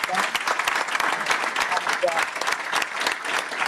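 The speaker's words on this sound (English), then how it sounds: "ask you all to join me in a warm round of applause to Paula." An audience at a panel event gives a warm round of applause, steady dense clapping close and loud throughout.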